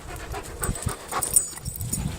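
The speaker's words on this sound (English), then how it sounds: "I'm babysitting a dog for a week" A dog panting rapidly and audibly close by, quick rhythmic breaths with no voices.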